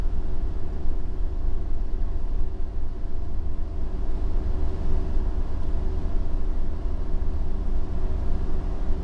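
A Ford V10 engine in a 30-foot Allegro motorhome climbs Baker Grade, a steady low drone and road rumble heard from inside the cab, with no clear shift and no talk.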